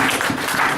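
Brief burst of audience applause acclaiming the Lord during a French church sermon, a steady wash of many hands clapping throughout.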